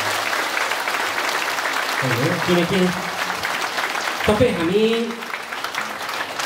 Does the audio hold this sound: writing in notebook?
no